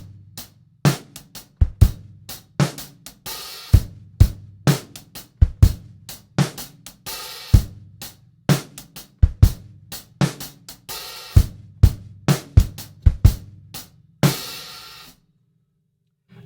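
Drum kit playing bars 11 to 15 of a grade 4 arrangement: steady rhythmic kick, snare and cymbal strokes for around fifteen seconds, with a fill near the end and a crash before stopping, close and solo.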